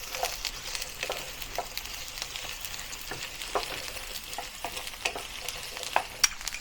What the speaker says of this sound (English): Fry the onion until translucent.